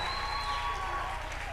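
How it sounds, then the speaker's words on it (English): Audience applause at a theatre festival in Kenya, a steady wash of clapping heard briefly under a held musical tone. "I just want us again to give a round of applause to Margareta Wagashero."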